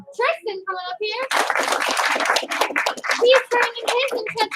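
Children at a karate class clap for a student being promoted, a short burst of sharp hand claps at first, then a dense, steady patter of applause with kids' voices and an adult talking over it.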